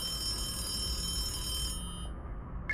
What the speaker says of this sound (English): The telephone at the end of the table was ringing.